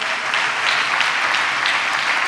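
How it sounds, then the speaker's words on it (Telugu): A church congregation claps during a Good Friday service, loud rhythmic applause in steady beats filling the room. "చప్పట్లు కొడుతూ స్తోత్రాలు చెప్దాం."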